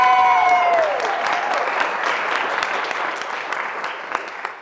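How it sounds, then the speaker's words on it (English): Audience at a live speaking event in Manchester applauds as speaker Ria Hartley is welcomed, a steady wash of clapping that starts strong after a brief tone and gradually thins over a few seconds. "big round of applause for Ria, everybody!"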